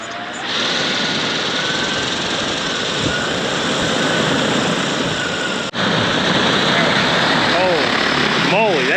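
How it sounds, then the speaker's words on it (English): A large drone's propellers spin up for takeoff, a loud continuous whirring hum that holds steady with a brief dip midway, while a voice speaks over it. "Aircraft preparing to take off."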